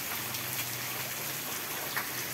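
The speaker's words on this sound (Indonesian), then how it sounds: "keadaan hujan deras" Heavy nighttime rain falling steadily, a dense hiss of drops with scattered close patters on surfaces, loud and continuous with no voices.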